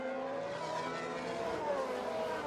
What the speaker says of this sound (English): Lewis Hamilton and Sebastian Vettel barely separated by a few car lengths